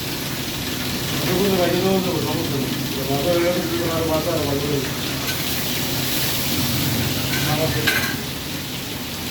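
Hilsa fish frying in oil at a busy late-night street stall, a steady sizzle running throughout with some stirring, while people talk nearby over the cooking noise.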